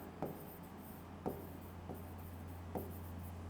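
Marker strokes on a board as engineering lecture data is jotted down, four short scratchy taps spaced about a second apart over a steady low hum, no talking.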